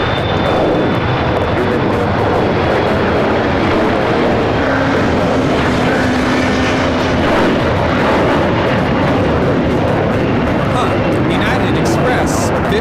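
A United Express Embraer E175 jet takes off at LAX, bound for Madison, its engines a loud, steady broadband roar that holds throughout, with people talking faintly underneath.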